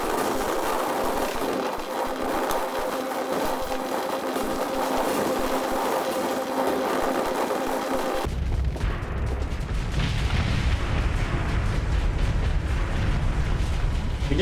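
Space station modules blowing apart in Starsector, a continuous rumbling barrage of explosions with a sharp shift around eight seconds into deeper, heavier booming that carries on to the end, no talk.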